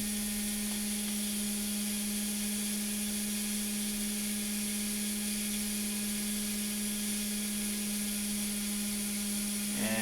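An electric motor in a back EMF recovery circuit spins steadily at around 12,000 RPM, giving a continuous high whine with a constant hum beneath it, unchanging throughout, with no talk.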